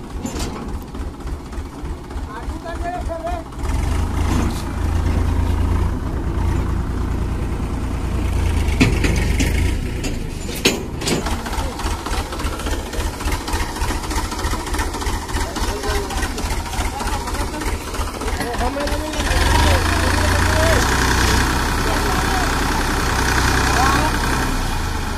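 A tractor engine on a farm runs with a steady, chugging idle and heavy vibration, loud and close, while people talk over it.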